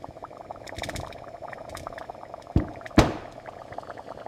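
Potatoes drop into a bubbling seafood boil sauce for a loaded boil with lobster, crab, eggs and sausage: a steady close simmer with two sharp splashy plops near the end.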